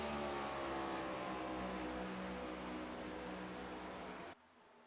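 A Cup Series race car on a warm-up lap at Texas Motor Speedway, a steady loud engine drone with layered harmonics sustained throughout, then cutting off abruptly near the end.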